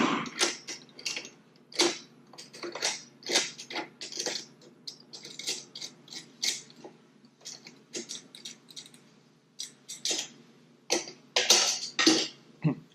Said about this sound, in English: Second thing you do is you remove the clamp, like so, for the filter canister.